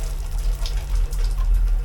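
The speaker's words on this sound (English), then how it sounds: "take a nice shower" Hot shower running steadily in a budget London hotel bathroom, a continuous close hiss of water spray over a low rumble, with no voices.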